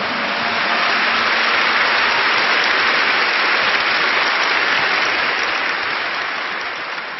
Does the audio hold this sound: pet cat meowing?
no